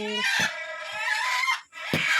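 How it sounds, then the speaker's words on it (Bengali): Native country chickens on a family farm cluck and squawk loudly up close in a few short bursts, with a brief pause between calls. "বাবা মুরগি নিচ্ছে দেশি মুরগি"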